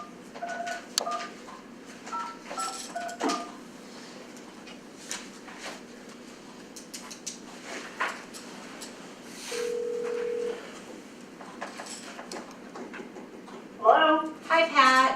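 A conference phone dials in a remote participant during a meeting: short dialing tones, then a steady ring tone, then rising tones near the end. Quiet room murmur sits underneath.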